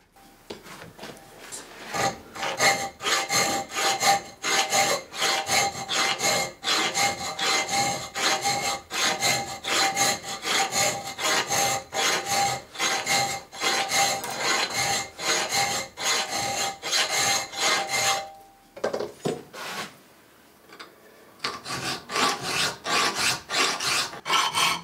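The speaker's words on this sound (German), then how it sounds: "Mit der Feile schrägt er die Zinken der Sohle so weit ab, bis er die Markierung erreicht." A hand file rasps steadily across wood while the sole of a hand plane is shaped, giving rapid, evenly repeated close strokes for about eighteen seconds, then a brief pause and more filing.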